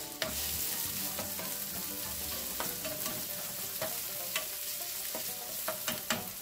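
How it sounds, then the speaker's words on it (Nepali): Onion and ginger fry in hot oil in a pan with a steady, quiet sizzle, while a spoon stirs them and scrapes the pan in scattered taps. No one speaks. "अब यो प्याज भुटौँ र यो अदुवा पनि राखेर भुटौँ।"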